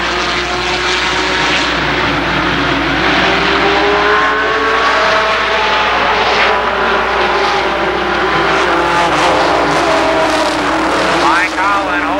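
Legends race cars racing at Columbus Motor Speedway, a loud, dense pack of engines droning and shifting pitch continuously, with a commentator talking over the roar.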